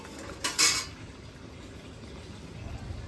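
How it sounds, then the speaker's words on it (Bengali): A metal lid lifted off a pan of simmering fish curry on the stove, giving a brief clattering clink near the start, then a quiet bubbling simmer. "ঢাকনাটা তুলে নিচ্ছি, 5 মিনিট হয়ে গেছে"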